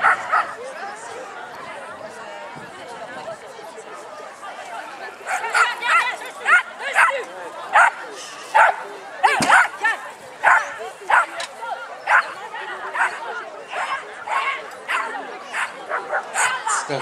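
Dog barking in short repeated bursts during an agility competition run at a Bordeaux trophy event, mixed with a French commentator's voice over a busy arena background.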